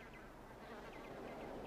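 A housefly buzzes continuously in a quiet room, a faint, steady drone with slight wavering as it moves, with no talk.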